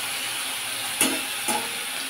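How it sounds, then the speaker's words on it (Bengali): Potato and pointed gourd frying in hot oil, a steady soft sizzle with two brief louder crackles as the pieces are stirred, no voices. "ভালো করে ভেজে নেব।"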